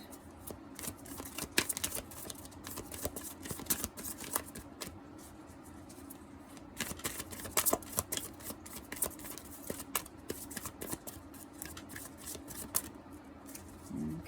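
Tarot cards are shuffled by hand in a quiet room, giving repeated soft riffling and slapping bursts that come close together at an irregular pace.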